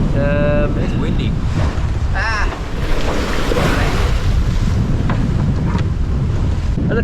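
Strong wind of about 20 knots buffets the microphone aboard a sailboat at sea, with waves washing and a voice speaking briefly early on.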